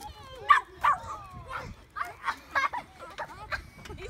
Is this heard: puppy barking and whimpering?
yes